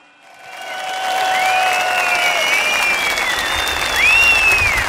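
A crowd at a political rally in Ankara bursts into applause that swells within the first second and then holds as a loud, dense clatter, with whistles rising above it.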